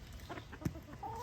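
Backyard chickens cluck softly while pecking at scattered apples and zucchini, a few short calls close by over low background rustle.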